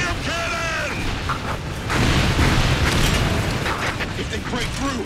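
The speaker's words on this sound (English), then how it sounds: "Let them get a taste of the Requiem Cannon!" Requiem Cannon fire and explosions in the video game Earth Defence Force 6: a sustained, loud booming roar with mechanical clanking and a brief tonal sound at the start, swelling into a continuous dense blast.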